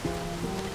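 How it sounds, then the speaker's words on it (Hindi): Rain falling steadily during a conversation-filled scene, a soft continuous hiss of drops with a low steady hum underneath, fairly faint and constant throughout. "इतनी बारिश हो रही है"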